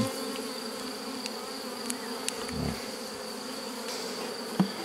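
Honeybees buzz steadily around an opened hive during a Miniplus-to-Maxiplus frame transfer, a soft continuous drone with occasional sharp clicks and taps close by.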